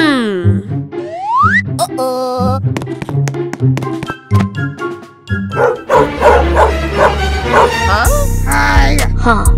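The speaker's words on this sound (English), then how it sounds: "Barking at me." A dog in the Roblox game Brookhaven barks and yips in a rapid string of synthetic, bouncy game-sound barks with some whimpering. The barking is loud and close, overlaid with cartoonish music-like effects.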